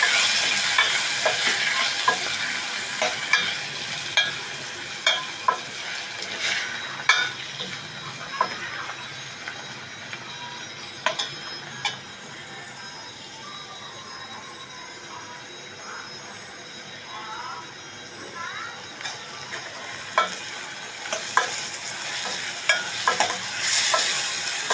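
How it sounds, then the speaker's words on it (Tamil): Ingredients are sautéed with salt and turmeric in a pan for a simple chutney, giving a continuous low sizzle and frequent sharp scrapes and clinks of a stirring spoon against the pan, with no talk. "எல்லாம் வதக்கிக்கணும்."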